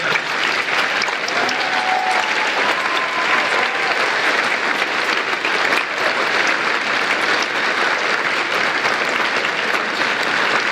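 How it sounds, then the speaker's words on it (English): Sustained, loud applause from the crowd at a high school awards ceremony for the honorees, with dense, even clapping for more than ten seconds and no talking. "Please join me again in another round of applause for these wonderful."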